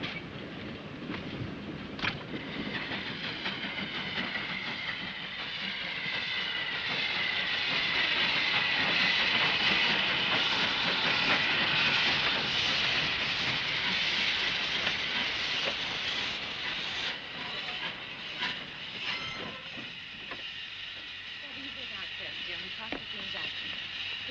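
Steam train slowing as it pulls into a station, a steady rumbling hiss with faint clicking wheel noise that swells midway and then eases. The sound is continuous and moderately quiet.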